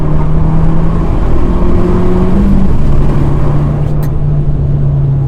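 Fiat 595 Abarth Competizione with Akrapovic exhaust and valve open, a loud, steady, close engine drone with a low growling note and slight pitch shifts, no talk over it.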